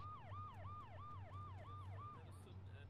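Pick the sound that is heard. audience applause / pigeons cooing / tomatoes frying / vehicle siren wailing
vehicle siren wailing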